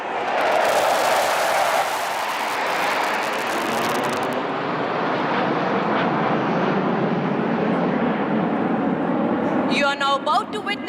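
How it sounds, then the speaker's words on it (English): A Sukhoi Su-30MKI jet flies a low-level aerobatic display during an Indian Air Force anniversary air show over Chennai's Marina Beach, a loud, sustained roaring jet rush over the crowd, with an announcer speaking over a public address. "You are now about to witness a low-level aerobatic display by the Sukhoi 30 MKI"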